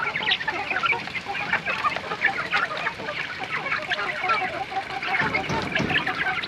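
A crowd of chickens clucks and chatters continuously, with many overlapping calls at close range and no talking.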